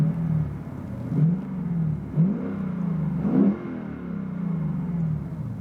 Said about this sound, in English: I'll give you a couple of interior revs